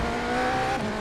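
Porsche RSR race car in iRacing at Monza, its engine droning loud and steady with a rising then shifting tonal whine, heard close behind throughout without any talk.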